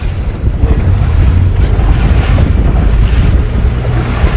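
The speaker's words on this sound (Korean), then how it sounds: "오늘 파도가 굉장히 심하고 바람도 심해요" Strong wind buffets the microphone as heavy waves slap and surge around a Bayliner fishing boat with a W hull, a loud continuous roar with no talk.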